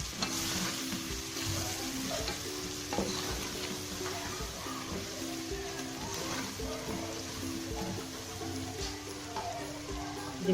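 Onions simmering in a pan after a splash of water, a steady soft sizzle and bubbling close up, with faint stirring or scraping clicks and a low kitchen hum running underneath.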